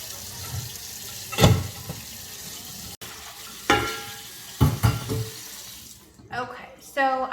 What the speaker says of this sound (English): I am washing it again just to make sure that there's nothing else left on it. Again, just using soap and my sponge.